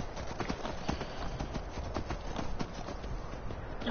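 Horse hooves clop in Skyrim, a brisk, even run of close hoof strikes at a quick gait that holds steady from start to finish.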